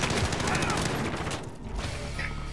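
Rapid gunfire in the video game Warzone, a loud dense burst of automatic shots that drops off midway into lighter scattered fire, with a voice talking over it.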